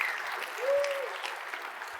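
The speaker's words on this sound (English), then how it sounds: "So let's give them a round of applause." A conference audience at VueConf US 2019 applauds, a steady dense wash of clapping throughout, with a brief whistle partway through.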